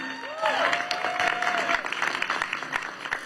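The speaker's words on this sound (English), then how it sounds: "another round of applause" An outdoor crowd in Las Vegas applauds as the U.S. Capitol Christmas Tree arrives, sustained clapping with a few cheers and a high whistle, voices mixed in under the continuous patter.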